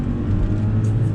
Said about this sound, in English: On throttle again, drops down that 9-speed automatic.